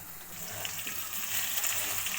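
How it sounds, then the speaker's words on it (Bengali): Potatoes fry in a pan of hot oil until browned, giving a steady, close sizzle with crackling spits throughout and no talk. "আলুটা আমার লাল লাল করে ভাজা হয়ে গেলে আমি নামিয়ে নেব।"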